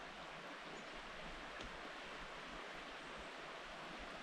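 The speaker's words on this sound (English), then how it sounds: "That's a nice little brook." A small brook flows beside a road near the beginnings of Bear River on the Grafton Loop, a steady, broad rushing wash heard continuously from nearby.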